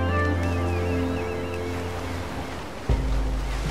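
Sea surf and rolling waves in the video game Unravel, a steady wash of water under a tonal musical score, with a soft thump near the end.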